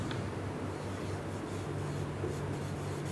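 Steady scratchy writing on a board during a chemistry lecture, a continuous close rubbing stroke sound with no talking.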